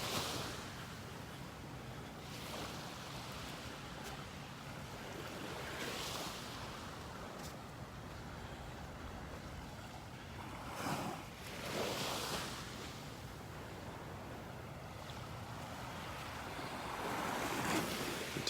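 Small, calm waves lap softly at a beach shore in North Naples, Florida, a steady low wash with a couple of slightly fuller surges, light wind noise throughout and no voices.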